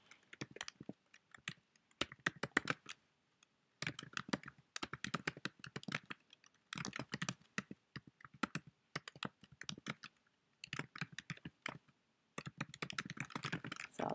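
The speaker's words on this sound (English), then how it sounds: "you just type your writing prompt there" Typing on a computer keyboard while entering text into an editing window, steady runs of quick light key clicks in bursts with brief pauses between them, close and quiet with no talking.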